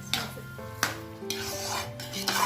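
A spoon scrapes and stirs pumpkin halwa in a metal pan, a few soft rubbing strokes with light clinks of utensil on pan, close and quiet.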